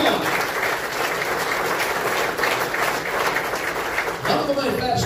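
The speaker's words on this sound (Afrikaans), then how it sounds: "Kan ons 'n lekker hande klap vir hierdie?" A church congregation at a Day of the Vow service applauding, sustained hearty clapping from many hands that fades near the end, with a voice briefly heard over it.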